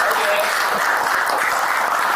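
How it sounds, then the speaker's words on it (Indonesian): Studio audience applauding a guest, Rocky Gerung, on a talk show: a short, dense, steady round of clapping filling the room. "Tepuk tangan dulu"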